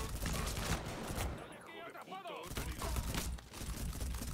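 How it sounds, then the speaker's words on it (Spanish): Dense gunfire during a shootout in Mafia III, rapid loud volleys that drop away briefly while a voice shouts, then resume in crackling bursts. "¡Nos están disparando!"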